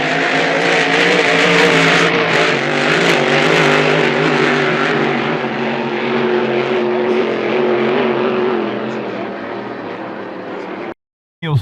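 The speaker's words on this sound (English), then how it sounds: "Bit of a lane change there by one of the tunnel boats." Loud, sustained engine roar of junior-class racing tunnel boats running close by during practice at the 2025 Windsor Spectacular, with a steady droning tone that slowly fades before a brief cutoff.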